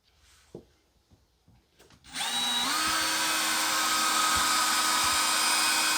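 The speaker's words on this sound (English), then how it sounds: "I'm just going to get it started by using like an 1/8 inch drill bit" After a few quiet clicks and handling noises, an electric drill with a 1/8 inch bit whirs up to a loud steady high-pitched whine, grinding continuously through an aluminum RV wall frame close by.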